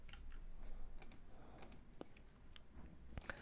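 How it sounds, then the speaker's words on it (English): Quiet typing on a computer keyboard, a few scattered light clicks and taps at an uneven pace, close but soft, with no talking. "I will type it here."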